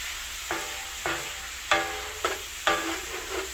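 Onions are sautéed in a pan, with a run of five bright scraping strokes about half a second apart over a quiet sizzle, each stroke rising sharply and fading.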